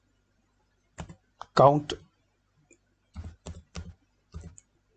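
Typing an Excel formula on a computer keyboard: a few crisp, close key clicks in short bursts with pauses between, and a voice briefly speaking over them.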